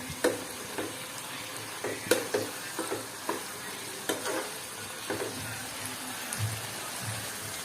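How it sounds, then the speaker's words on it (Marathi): Cashew vegetable curry stirred in a pan with a spoon, giving soft irregular scrapes and clicks over a low bubbling simmer, close and moderately quiet, with no voices. "आता आपण भाजी परत एकदा मिक्स करून घेऊया चमच्याने."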